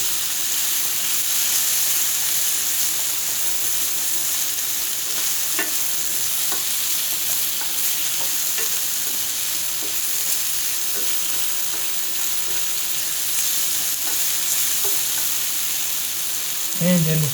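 Lo mein noodles stir-fried with mushrooms over high heat sizzle steadily and loudly, with scattered clinks and scrapes of stirring throughout.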